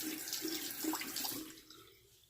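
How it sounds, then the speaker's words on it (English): Tap water runs into a sink to wet a Merkur Progress safety razor, a steady splashing stream that tapers off toward the end, with no talk over it. "And I'll wet the razor."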